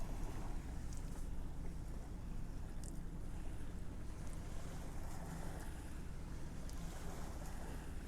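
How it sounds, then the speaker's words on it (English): Ocean waves and breeze heard while out on a Sunday evening drive, a continuous washing roar with wind buffeting the microphone, moderately faint, no talking. "Waves."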